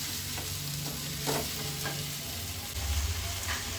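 Sliced onions and tomatoes for chicken gravy frying steadily in a pan, with a continuous sizzle and a few soft scrapes of a stirring spoon, close and even.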